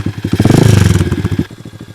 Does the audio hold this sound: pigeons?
no